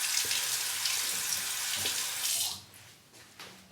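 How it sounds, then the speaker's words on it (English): A razor rinsed under a running tap during a shave, a loud steady gush of water for about two and a half seconds that then cuts off, leaving faint drips and quiet room sound. "Rinse."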